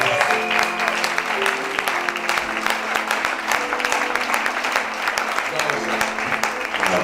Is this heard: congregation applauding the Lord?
yes